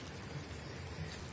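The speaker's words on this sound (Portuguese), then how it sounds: "É a primeira chuva do ano." Steady rain falling in Israel, the first rain of the season, a dense even patter at moderate level with no voices.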